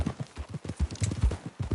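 Horse hooves clip-clop in Red Dead Redemption 2, a quick, even run of close, thudding footfalls with no pause.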